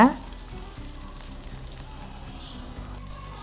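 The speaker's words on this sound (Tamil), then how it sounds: "ரெண்டு பக்கமும் திருப்பி போட்டுட்டு வடை லைட்டாக ப்ரௌன் கலர் வரும்போது" Sabudana vada, sago pearl fritters, frying in hot oil: a steady, moderately loud sizzle and crackle that carries on evenly, with a brief clatter at the start and no voices.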